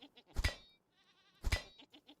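Pigs in the survival game Vintage Story, modded hardcore play: two loud, close animal squeal-grunts about a second apart, with a few softer snorts between them and no talking.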